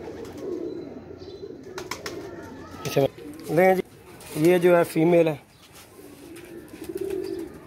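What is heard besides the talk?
teddy pigeons cooing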